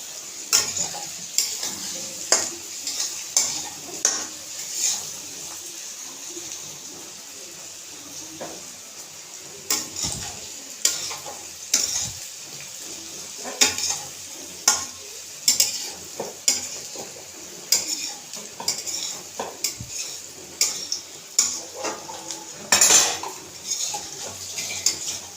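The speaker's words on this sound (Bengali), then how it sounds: "আলু ভাজাটাকে নাড়া দিয়ে দিই" Fried potatoes being stirred in a pan, a soft continuous sizzle of oil under repeated sharp scrapes and clinks of a utensil against the metal, irregular and close, with no talking.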